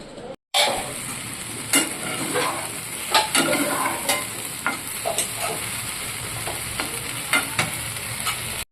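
Constant sizzling of potatoes frying in a pan, with repeated scraping and stirring clinks breaking through the hiss at an uneven pace.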